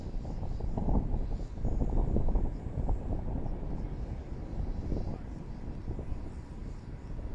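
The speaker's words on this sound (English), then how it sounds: "Coming up on the start of the landing burn here momentarily." A Falcon 9 Block 5 rocket booster's landing burn after a Koreasat 6 launch, a broad, rough, continuous roar with low rumble, heard from a distance and steady throughout, with faint talk beneath.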